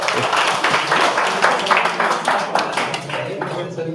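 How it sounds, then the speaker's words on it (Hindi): An audience claps after a children's story at a spiritual talk, dense close clapping that stays steady and loud throughout, with a few voices mixed in. "सब ताली बजाओ"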